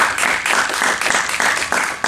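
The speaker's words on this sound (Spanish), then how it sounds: "Vamos con un aplauso." An audience claps together in a room, a loud, close, steady burst of many hands with faint rhythmic surges, lasting about two seconds with no one speaking.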